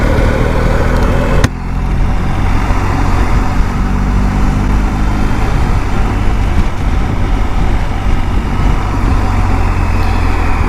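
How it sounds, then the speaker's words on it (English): Heavy, congested road traffic surrounds a motorbike rider, with constant loud engine rumble and idling vehicles close by and a brief bump near the start. "I can't bear this kind of congestion like this, it's horrible."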